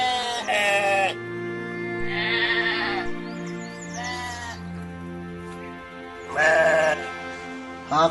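Sheep bleat loudly and close by in several separate wavering calls spread across the clip, over a constant low background hum.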